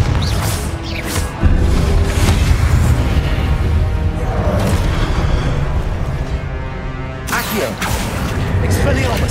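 The Confringo blasting spell in Hogwarts Legacy bursts in heavy booms and crashing impacts amid busy combat noise, loud and dense, with a voice shouting over the blasts.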